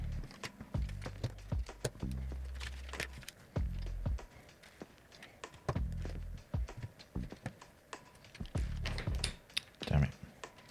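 Lego pieces from the Darth Vader helmet set 75304 snapping and clicking together during a build, a close, irregular stream of sharp small clicks and taps.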